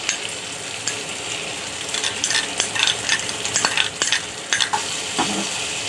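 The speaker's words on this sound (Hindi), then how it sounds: "अब इसको चला लेंगे।" Chilli paneer with tomato ketchup stirred in a hot pan, with a continuous oily sizzle and repeated scrapes and clinks of a spatula against the metal, growing busier and more rhythmic toward the end.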